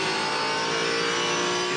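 A Ford V8 Supercar engine revs hard at Bathurst, a loud, sustained, buzzing high-rpm roar held near the limiter in fourth gear.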